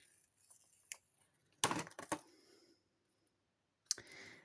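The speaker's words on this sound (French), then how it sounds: "je vais enlever tous les morceaux de scotch" Strips of tape are peeled off a diamond painting kit, giving short sharp crackling rips in a few separate bursts with quiet gaps between them, close and fairly faint.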